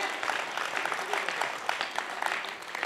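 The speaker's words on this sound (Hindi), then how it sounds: "एक बार जरा जोरदार तालियां बजाए।" Crowd applause at a Dussehra fair run by the Kapasan municipal council, a continuous wash of many hands clapping at moderate volume with a faint voice underneath.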